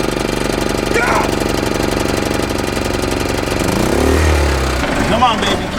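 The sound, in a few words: RV engine running after repair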